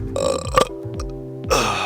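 A loud, drawn-out burp rumbles through the first half, then a second belch erupts near the end, close and unmuffled.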